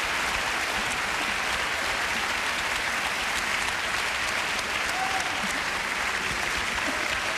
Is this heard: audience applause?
yes